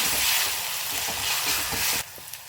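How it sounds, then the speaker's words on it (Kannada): Ginger garlic paste fries in a pan with a steady, loud, close sizzle and some stirring. The sound drops off abruptly near the end. "ಈಗ ಒಂದೆರಡು ಟೇಬಲ್ ಸ್ಪೂನಷ್ಟು ನಾವು ಶುಂಠಿ ಬೆಳ್ಳುಳ್ಳಿ ಪೇಸ್ಟನ್ನು ಆ್ಯಡ್ ಮಾಡ್ಕೊಳ್ಳೋಣ ಹಸಿ ವಾಸನೆ ಹೋಗುವಾಗ ಫ್ರೈ ಮಾಡ್ಕೊತ ಹೋಗೋಣ"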